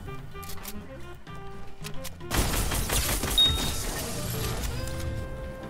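Gunfire in the video game Fortnite breaks out midway as a dense, loud crackle of shots over game music, continuing to the end.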